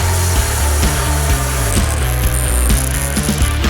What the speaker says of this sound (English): I'm going to cut out these little notches that I measured